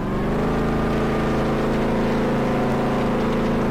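A car engine drives steadily in DayZ, a loud continuous low drone with harmonic hum that holds even for several seconds, no talk over it.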